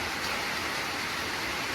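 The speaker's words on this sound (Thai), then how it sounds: "ฝนตกแล้วทุกคน" Steady rain falls as a dense, even hiss filling the whole moment, with no voices over it.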